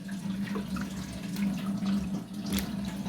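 Watermelon rinds being washed in a bowl of water, a steady close splashing and sloshing with small bright drips, continuous and without talk.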